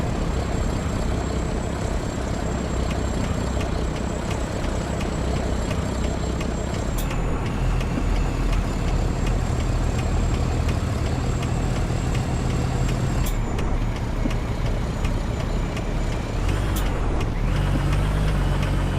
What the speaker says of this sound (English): I do think I need to downshift here.